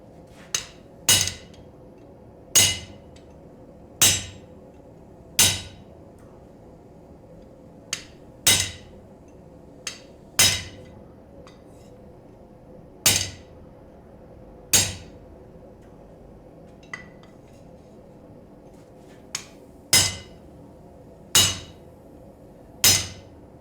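A hammer striking a chisel to split material, sharp ringing metallic blows at an uneven, unhurried pace, roughly every one to two seconds, close and clear in an otherwise quiet space.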